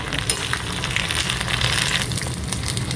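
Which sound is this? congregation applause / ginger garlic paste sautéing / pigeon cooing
ginger garlic paste sautéing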